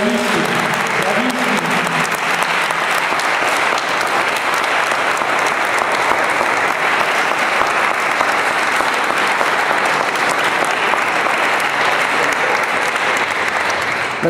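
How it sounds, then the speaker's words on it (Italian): An audience applauds children after their performance at Santo Spirito, dense sustained clapping from a large crowd that runs loud and unbroken throughout, with a brief voice at the very start. "farei ancora un altro applauso"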